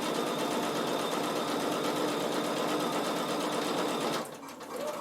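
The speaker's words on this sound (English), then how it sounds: "So I'm just top stitching it down to where I'm meeting." A sewing machine top-stitches old denim jeans with a loud, continuous whirring hum that stops abruptly near the end, leaving near silence.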